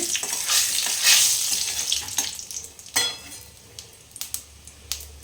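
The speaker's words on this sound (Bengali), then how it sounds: "গোটা জিরে গরমটা এইভাবে ফুটছে এখানে শুকনো লঙ্কাটা দুটো তেজপাতা" Whole cumin seeds, dry red chillies and bay leaves spluttering in hot oil for Bengali chicken kosha, a loud, dense crackling sizzle that thins into scattered sharp pops, close up with no voices.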